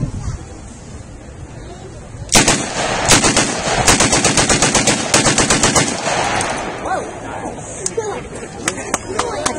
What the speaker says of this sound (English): Here you'll see the M3 grease gun.